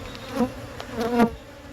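Honey bees buzz in an opened hive, a close low drone that swells in two short surges over a steady hum.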